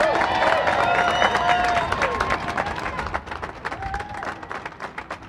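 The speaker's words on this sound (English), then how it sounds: "So how about a nice round of applause for Pat Brophy?" Applause rolls through a crowd at a city hall exterior lights unveiling, loud at first then thinning into scattered individual claps, with voices and chatter mixed throughout.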